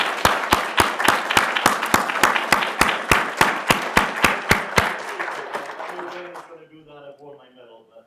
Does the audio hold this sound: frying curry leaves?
no